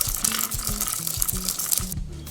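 Repeated grinding and pounding in a metal mortar and pestle, a steady rhythm of gritty scrapes and dull knocks, close by with no voices.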